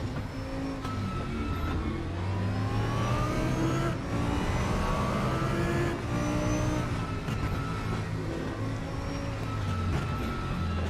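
A race car at the Mount Panorama circuit in Bathurst, its engine revving hard and climbing through gears in repeated sweeping rises, loud and close from onboard with no talk.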